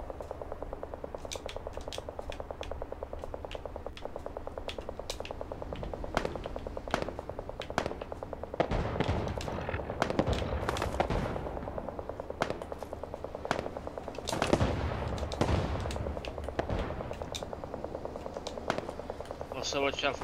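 Sniper and other gunshots from a shooter video game crack out as sharp, scattered single reports over a dense, continuous bed of game noise, some shots near and loud, others softer.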